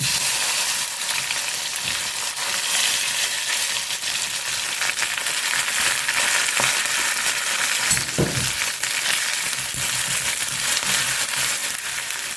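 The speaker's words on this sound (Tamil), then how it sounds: "கொஞ்சம் தாளிக்கிறதுக்கு சோம்பு போட்டுக்கலாம் இந்த பைசஸ்லாம் போட்டுக்கலாம் நல்லா பொரிஞ்சு வரட்டும்" Continuous crackling sizzle of fennel seeds and spices frying in hot oil for idli kuzhambu, steady and close, with an occasional louder pop.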